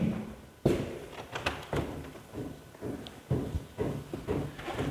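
Irregular knocking thuds of hammers at building work next door come in uneven bursts with short pauses between blows.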